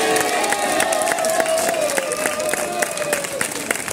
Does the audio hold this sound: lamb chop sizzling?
no